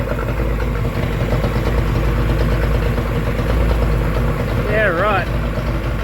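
A repaired boat engine idles steadily after a gear selector fix, a loud low mid-range drone running throughout with a short rising whine near the end and brief speech.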